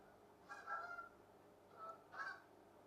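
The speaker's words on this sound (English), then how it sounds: "There are geese flying outside." Geese honking as they fly past outdoors, two separate bursts of calls, the second louder, over a faint steady background hum.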